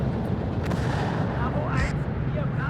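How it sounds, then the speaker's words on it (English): M109 self-propelled howitzers fire an artillery barrage in the WARNO war game: a dense, continuous roar of booms and rumble that fills the whole stretch at steady loudness. "Time to unleash one more M109 barrage."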